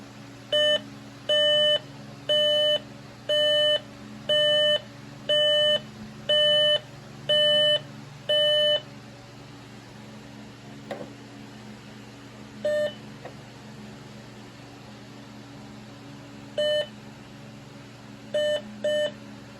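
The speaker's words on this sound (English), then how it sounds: "As you can hear, it beeped twice" A 4007ES fire alarm panel beeps in a steady run of short, evenly spaced tones, then goes quiet apart from a few scattered isolated beeps and a double beep near the end.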